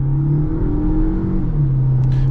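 A Renault Clio 1.3 TCe with a 130 EDC gearbox pulls away, its engine droning low and steady and rising in pitch, close up and alone with no talk.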